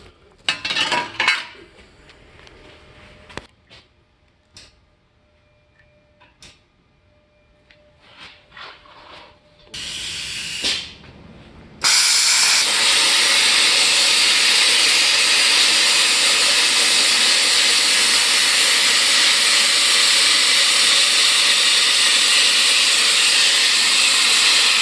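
A YesWelder CUT-65DS plasma cutter slices through aluminum, starting with scattered clicks and short bursts before the arc catches and settles into a loud, steady hissing roar that continues unbroken to the end.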